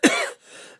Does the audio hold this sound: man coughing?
yes